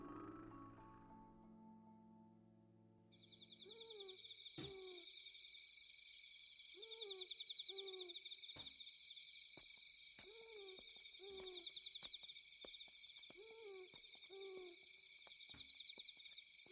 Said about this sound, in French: Effrayant. Le hibou effrayant.